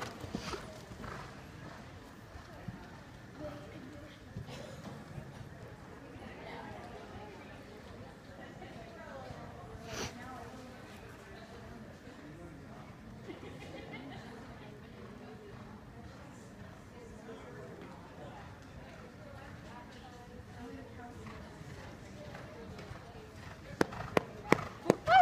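Pony hooves clip-clopping steadily at a walk through most of the stretch, with a few sharper knocks near the end, heard under intermittent talk.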